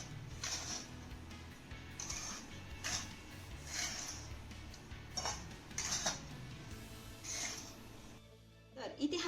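Soaked semolina (rava) being broken up and loosened in a bowl, with soft scraping and clinking of a spoon against the bowl in irregular strokes, fairly close, under a faint background.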